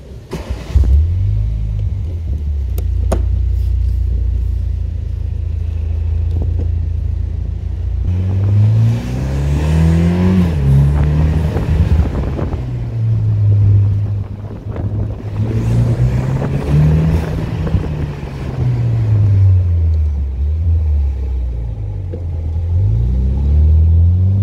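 A Morgan car driving through London, its engine rumbling loud and close with rising and falling revs as it accelerates and shifts, steady throughout with no talk.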